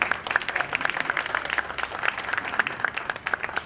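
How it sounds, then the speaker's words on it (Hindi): Lively audience applause at a coaching-class Yoga Day and ration distribution event, a thick, continuous patter of many hands clapping close by, with individual claps popping out of the crowd sound. "तालियों से गड़गड़ाहट कर।"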